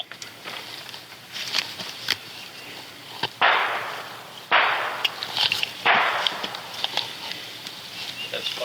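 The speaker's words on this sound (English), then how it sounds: "Baker, when we have more gunshots going off" Three sharp, loud gunshots ring out a second or so apart during a police shootout in Norman, Oklahoma, each trailing into a brief echo, over a quiet outdoor background with faint distant noises.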